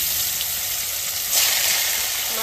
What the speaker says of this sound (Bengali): মাছটা আমি বেশি ভাজবো না,